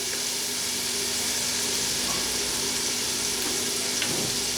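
Cumin seeds and turmeric frying in hot oil in a pan, a steady close sizzle with soft crackles running throughout without pause.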